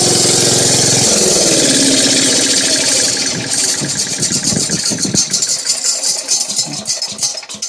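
A Miller Roughneck engine runs loud and close with a steady mechanical drone, then settles into a rougher, pulsing idle with rhythmic chugging.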